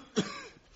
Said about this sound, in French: C'est votre tabac qui me fait tousser.